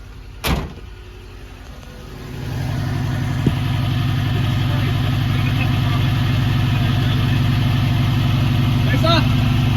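After a sharp knock, a car engine fires and settles into a loud, steady idle through a freshly repaired rear muffler and exhaust, droning close by for the rest of the clip.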